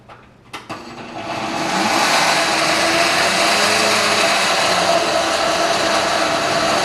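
A blender purees fresh strawberries with a little sugar, starting with a few clicks and a brief whir, then settling into a loud, steady motor whine that runs without interruption to the end.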